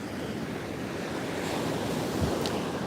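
Ocean surf rolling onto the shore at Vero Beach, a continuous wash of breaking waves mixed with wind buffeting the microphone, steady and moderately loud with no talking.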